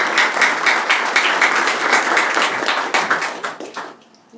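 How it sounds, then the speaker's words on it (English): Audience applause at a city council meeting, a steady wash of many hands clapping together for about four seconds before it abruptly stops, loud and close with no talking over it. "let's be sure to clap for her"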